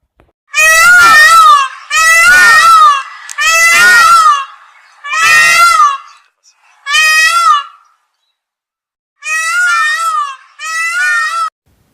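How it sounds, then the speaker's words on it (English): A peacock gives a series of seven loud, close, wailing calls, each a harsh, honking cry about a second long, separated by short pauses, with a longer gap before the last two. "Peacock,"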